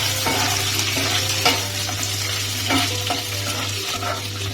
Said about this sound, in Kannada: ಸ್ವಲ್ಪ ಹಸಿಮೆಣಸಿನಕಾಯಿ ಹಾಕೊಂಡು ಫ್ರೈ ಮಾಡ್ಕೊಳ್ಳೋಣ